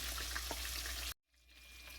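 Homemade chicken nuggets sizzle loudly in hot oil in cast iron with a steady crackling hiss, which drops away abruptly before a quieter, fainter frying sound resumes.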